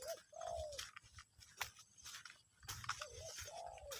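Soft, repeated dove coos in short phrases, fairly close, with faint background chirps and a steady hiss of ambient noise.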